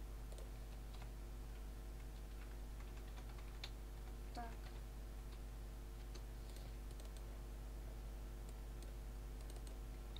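Soft computer keyboard typing in scattered bursts of clicks as a new folder is named, faint and close, over a steady low electrical hum.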